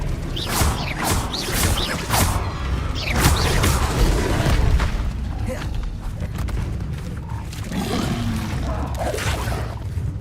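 Confringo and Expelliarmus spell blasts in Hogwarts Legacy hit as heavy booming, whooshing bursts, loud and close, piling up in the first half and then easing into rumbling debris and clatter.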